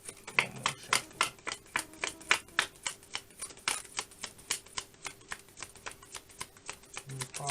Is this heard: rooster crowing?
no